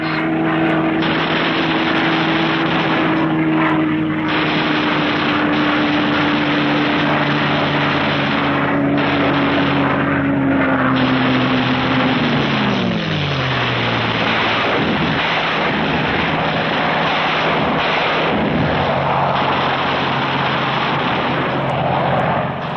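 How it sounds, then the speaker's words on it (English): Fighter aircraft skimming along at maximum speed on a wartime strafing run, a loud continuous propeller-engine roar with a steady tone that drops in pitch midway as the planes pass, heavy rumbling throughout. "Skimming along at maximum speed, the fighters pair off"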